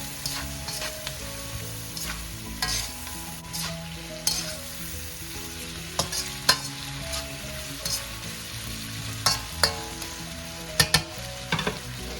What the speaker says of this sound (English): Start with the string beans. It's longer to cook. Stir fry them.